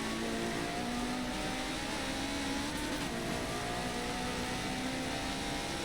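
Race car engines, including a Ferrari and a Porsche, drone steadily in a Le Mans endurance racing video game, producing a constant, dense roar with no breaks or voices.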